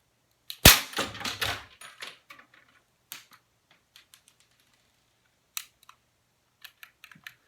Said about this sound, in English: I'm going to take this CO2 BB gun and I'm going to destroy Frank